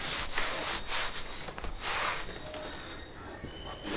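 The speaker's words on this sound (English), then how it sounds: "you just keep on wiping in the same direction" A cloth rubs steadily across an oil painting as Gamsol solvent softens and lifts the old varnish, giving a close, continuous scrubbing swish in repeated strokes with no talk.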